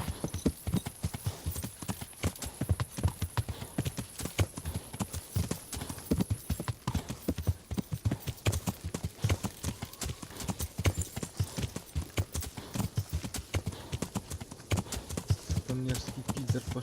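Horse hooves clip-clop steadily and close in the medieval video game Kingdom Come: Deliverance, a quick continuous rhythm of clattering steps with a brief whinny and faint game sounds behind.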